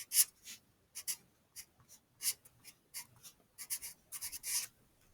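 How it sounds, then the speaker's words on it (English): Pen writing on a yellow plastic folder: a close, quiet run of short scratchy strokes in irregular bursts, with brief pauses between words. "So we're going to write writing on it."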